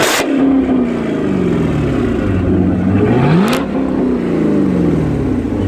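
A supercharged V6 engine of about 287 horsepower revs steadily, pitch dipping then climbing in a surging rise and fall, loud and close, with a brief higher whine near the end.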